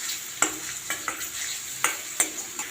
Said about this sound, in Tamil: அந்த பூண்டு நல்லா பச்சை வாசம் போகிற வரைக்கும் நல்லா ஒரு 5 மினிட்ஸ் நல்லா வணக்கலாம்.